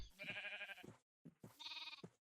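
Two loud, close bleats from a sheep in Minecraft, each wavering cry lasting under a second with a short pause between them.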